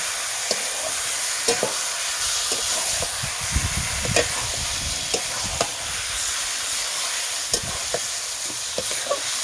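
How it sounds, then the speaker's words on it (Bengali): Poultry meat with salt, turmeric and mustard oil being stirred with spices in a hot pan, a steady sizzle broken by repeated scraping strokes of the spoon, close and moderately quiet. "এটাকেও আমি মশলার সঙ্গে ভালোভাবে নাড়াচাড়া করে নেব"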